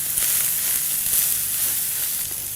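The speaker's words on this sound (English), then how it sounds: "leave them to cook for about at least 5 minutes either side until they're nice and brown" Lamb burgers browning in a frying pan give a loud, dense, continuous sizzle that holds steady from start to finish with no talking.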